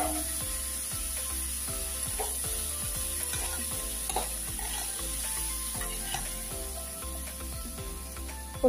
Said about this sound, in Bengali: বুট বোনা বসাইতেছি, এই যে বুট বোনা বসাই বিস্তারটা।